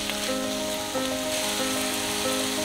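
Corn kernels frying in a pan with pork slices and onion over medium-high heat, a continuous loud sizzle with faint crackles and a steady hiss throughout.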